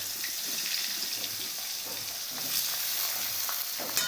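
Pointed gourd (potol) fries in hot oil that has been tempered with nigella seeds. A steady, dense sizzle runs throughout with small bursts of spattering and no talk.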